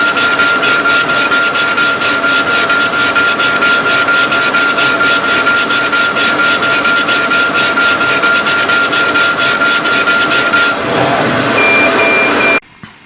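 A TangerineTiger laser engraving machine runs its dotting program, a loud, continuous rapid pulsing buzz with a steady whine that shifts near the end and then cuts off abruptly.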